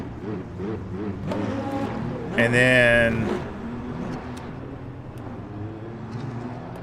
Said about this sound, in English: I love the way the Corvette sounds, though.